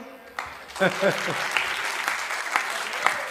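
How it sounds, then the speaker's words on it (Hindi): Audience applause at a Hindi comedy poetry gathering, a dense wash of clapping that swells after a brief quiet start and holds steady, with a voice talking over it near the start. "आप लोग तो तालियां ही बजा दो।"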